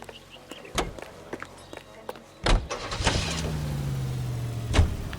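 A car being driven in the video game L.A. Noire, with a door clunk and engine starting up, then a steady low motor hum running beneath scattered mechanical clicks and shuffling footsteps.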